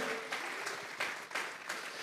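Congregation clapping in a church service, a steady, fairly faint wash of applause with rhythmic bursts and no voices over it.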